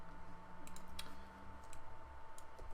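Quiet clicks of computer keyboard keys as a price is typed, a short burst of light taps spaced irregularly, faint and close.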